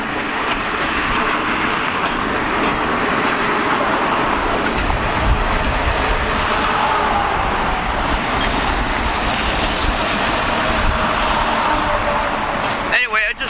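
A train rumbles past at close range with steady rolling noise and rail clatter, ending with a few sharp metallic clicks.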